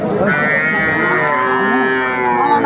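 A Sahiwal or crossbred cow at a cattle market lets out one long, loud, close moo lasting nearly three seconds, with faint crowd noise underneath.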